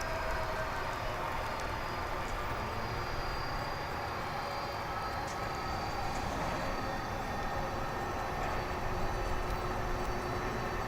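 A jet airliner departing DFW International Airport makes a steady, broad rumbling roar that holds at a constant moderate level throughout, heard from a distance with no talking.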